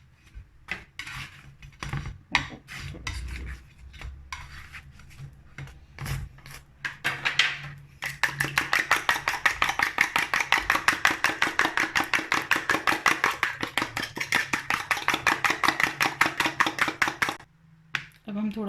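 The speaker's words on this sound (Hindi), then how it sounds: "इनमें हम थोड़ा सा नमक और थोड़ी सी काली मिर्च डाल के इसको अच्छे तरीके से फेंट लेंगे" Eggs with salt and black pepper are beaten for an omelette for a chicken club sandwich: a few scattered taps, then about ten seconds of fast, even whisking strokes against the bowl, close and alone.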